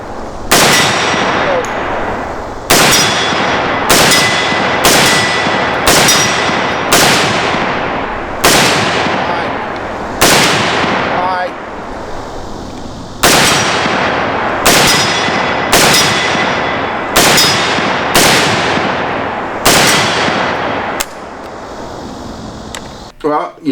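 A Springfield SAR-8 rifle fired at a shooting range, about a dozen loud, sharp shots in an uneven rhythm, each followed by a short ringing decay.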